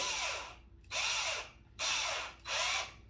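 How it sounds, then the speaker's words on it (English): A small power drill boring into a part of a wooden climbing Pikler triangle, four close, loud whirring bursts separated by short pauses, with no talking. "You can see I just use like a small drill."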